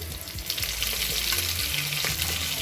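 Curry leaves dropped into hot oil for a khatti dal tempering, a close, steady, crackling sizzle with small pops throughout, no voices.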